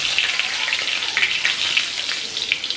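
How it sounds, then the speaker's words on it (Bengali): Cumin seeds and two dried red chillies frying in hot oil give a close, steady crackling sizzle with small bursts of popping. "গরম হয়ে গেছে, তেলের মধ্যে দিলাম জিরে"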